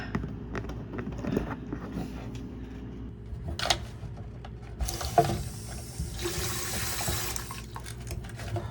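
Water running through the supply line of a Whirlpool refrigerator icemaker during a pressure check, a faint steady hiss and trickle with small mechanical clicks, growing fuller and louder toward the end, with no talk.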